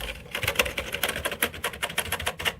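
Rapid clicking of keyboard keys on a TheC64 Maxi, a Commodore 64 replica computer, a quick irregular clatter of presses close by with no voices.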